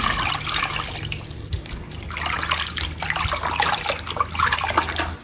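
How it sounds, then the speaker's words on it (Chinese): Clear water pours and splashes into a basin as sliced grass carp pieces are rinsed, a steady close wash of running and sloshing water with no talking. "片好的鱼片放在盆里，倒清水清洗干净。"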